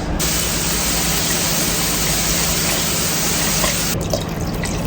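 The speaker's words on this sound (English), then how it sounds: "I'm gonna add a little water, and we're gonna get this on the stove." Water runs steadily from a tap into a cooking pot during home meal prep, a continuous close splashing hiss that cuts off near the end, with no talking.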